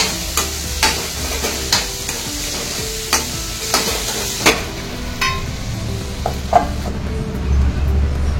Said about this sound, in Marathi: याला देखील 8 ते 10 मिनिटात चांगल्या तेलामध्ये परतून घेऊन शिजवून घेते भाजीला.